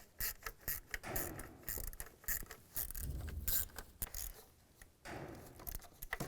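Ratchet wrench tightening timing cover bolts on a 2002-2009 Chevy Trailblazer, giving quick bursts of clicking and metallic scraping close by, with short pauses between strokes and no talking.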